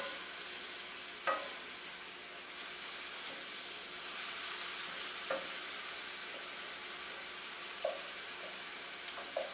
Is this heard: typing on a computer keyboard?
no